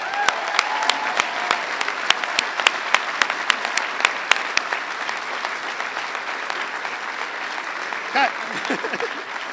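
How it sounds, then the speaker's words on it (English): Rousing applause from the crowd at a Massachusetts State University signing event, sustained full clapping with sharp individual claps standing out early, and a brief voice near the end. "So let's give them a rousing applause."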